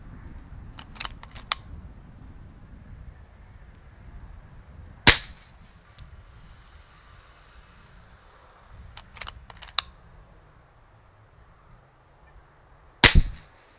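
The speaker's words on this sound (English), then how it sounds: "On high power and shooting an 18 grain, my sound meter can barely differentiate between the Kral and ambient background noise." A Kral Puncher Breaker .22 air rifle fires 18 grain pellets on high power, giving two sharp, quiet cracks about eight seconds apart over a steady outdoor background hiss, with faint small clicks between shots.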